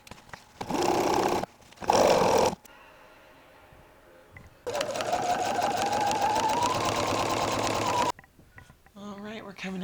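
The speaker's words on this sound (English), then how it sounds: "we're coming in here with quilting stitches throughout from the machine" A sewing machine runs in short loud bursts, pauses, then drives a longer steady run of rapid stitching while quilting through a layered quilt, with a rising whir at close range and quieter handling noise after; no speech.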